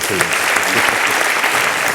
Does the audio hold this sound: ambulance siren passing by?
no